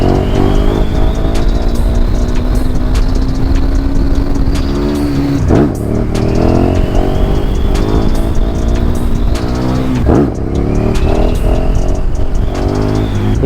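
A KTM 1290 Super Duke R motorcycle engine roars loud and close. It holds a dense, steady drone, with sudden pitch swoops near the middle and again toward the end as the throttle is blipped and released.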